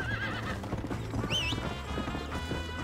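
A horse in the video game Red Dead Redemption clip-clops steadily at speed while giving a sharp, wavering neigh, with game music and ambience filling the background.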